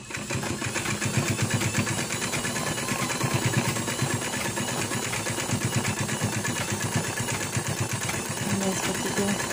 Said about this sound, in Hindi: इसे सिलाई लगा देनी है।